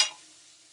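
Paprika, onion and garlic stirred into hot oil give a brief loud sizzle that fades quickly into a faint, steady hiss.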